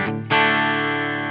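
Electric guitar on a clean channel through a Line 6 Helix modelling a Soldano SLO-100, a brief note followed by a sustained, ringing chord with rich harmonics, played alone.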